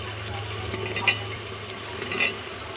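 Soybeans are stirred into an oily masala frying in a pan for soybean pulao. A continuous sizzle runs underneath, and a spoon scrapes and clicks against the pan about twice.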